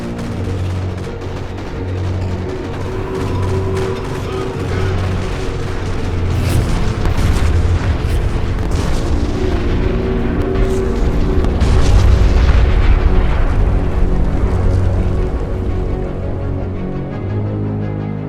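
Deep rumbling booms from nuclear detonations in the ERA ONE space strategy game, rolling continuously over a droning sci-fi score, loud and sustained with a heavy low-end swell in the middle.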